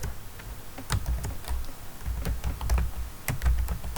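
Someone types Python code on a computer keyboard, a quick irregular patter of key clicks with brief pauses and a few sharper taps, close up and alone.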